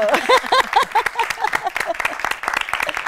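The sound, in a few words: audience applause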